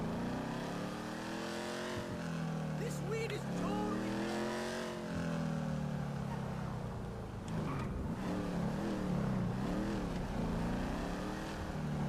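A car engine in a video game drones and shifts pitch as the vehicle drives, rising and falling with revs throughout, while someone talks over it continuously.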